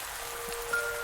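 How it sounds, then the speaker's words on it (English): Soft, steady rain patters in the Pumpkin Days farming video game, a quiet and even hiss with no talking over it. "Oh, and it's raining."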